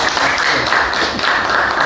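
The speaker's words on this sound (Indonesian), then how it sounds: "Ya, tepuk tangan untuk" A group in a school meeting room applauds at a quality-improvement discussion at an elementary school: dense, steady clapping that fills the short moment at even loudness, with no clear voices over it.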